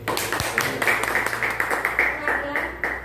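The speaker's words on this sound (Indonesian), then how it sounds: "Oke, tepuk tangan." A group claps hands together in a classroom-type gathering, a brisk patter of overlapping claps with a voice speaking at the start.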